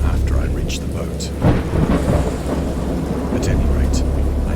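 Rolling thunder and steady rain from a wild storm at sea in an interactive Lovecraft horror story game, with low rumbling peals building and fading over a constant wash of rainfall.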